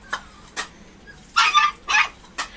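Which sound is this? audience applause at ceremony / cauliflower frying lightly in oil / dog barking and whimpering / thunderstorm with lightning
dog barking and whimpering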